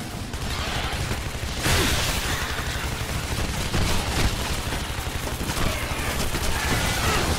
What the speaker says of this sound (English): Oh boy, that's fireworks.